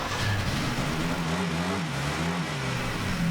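Engine of a 1970 Triumph TR6 running roughly, its low tone wavering and sagging before it stalls, close and steady with no voices.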